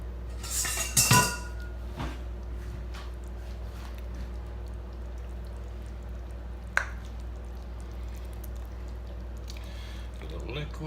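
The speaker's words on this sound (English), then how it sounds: "I'm going to dish myself up a bowl." Chilli, Aussie style, being dished into a bowl with a utensil: a brief clatter of metal against crockery, then soft scrapes and an occasional clink over a steady low hum, with talking in between.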